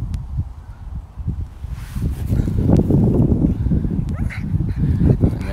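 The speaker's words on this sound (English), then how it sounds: "And then we have the barking" Outdoors, a dog barks and whines in low, gruff bursts while waiting for a stick to be picked up, with wind and rustling leaves behind it.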